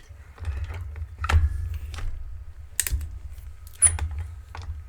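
A ButtonPress die cutting machine presses a die through clear acetate, making several sharp crunching clicks and clacks at close range over a low hum, with no talking.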